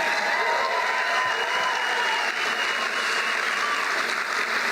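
A large crowd at a political rally for Donald J. Trump applauds and cheers steadily. The dense clapping is loud and close and holds without a break throughout.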